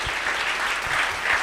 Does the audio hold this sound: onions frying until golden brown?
no